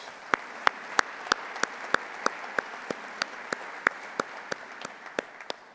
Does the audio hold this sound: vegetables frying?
no